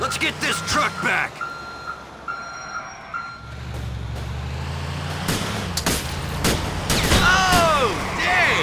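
A truck's reversing alarm in GTA IV: The Lost and Damned, a string of steady repeating beeps heard amid engine rumble, gunshots and other game action, with people talking.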